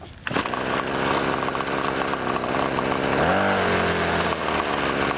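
A handheld small-engine machine, the kind winterized with fogging oil, fires up and runs with a loud, steady buzzing drone, revving higher partway through and holding at speed.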